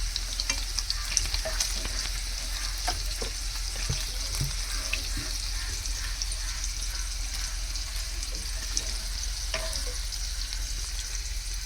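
Potatoes fry and get stirred in a pan for shahi paneer, giving a steady close sizzle with occasional scrapes and clinks of the spoon throughout.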